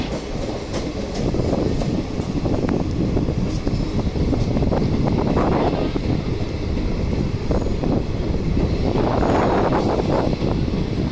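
Steady rumble of a moving train heard from inside a carriage near Kondapalli station by Vijayawada, with continuous rhythmic clickety-clack of wheels on rail joints and wind noise, loud and unbroken throughout.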